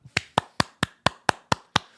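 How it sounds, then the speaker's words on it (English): Eight slow, evenly spaced claps ring out one after another, crisp and close, sounding more like a single person or small group clapping on cue than a large audience, with no talking. "Thank you. Please clap."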